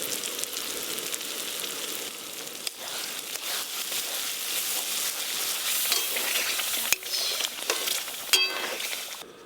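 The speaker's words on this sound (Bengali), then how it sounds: "নেড়ে মশলাটা একটু ভালো করে কষে নেব।" Masala spices for chicken chaap sizzle and fry in a pan, a steady close crackling hiss with occasional sharper spatters and the scrape of stirring.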